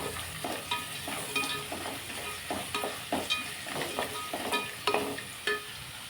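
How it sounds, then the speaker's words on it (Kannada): Onions fry in a pan with a little salt for vangi bath, a continuous sizzle with repeated spatula scrapes and stirs at an irregular pace, close and clear. "ಸ್ವಲ್ಪ ಉಪ್ಪು ಹಾಕಿದ್ರೆ ಈರುಳ್ಳಿ ಬೇಗ ಫ್ರೈ ಆಗುತ್ತೆ"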